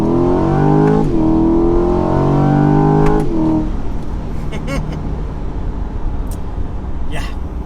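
A Chevrolet Corvette C8 Stingray Z51, a mid-engine car, pulls away from a gas station, its engine note rising loudly through two revving pulls before settling into a steadier, quieter drone.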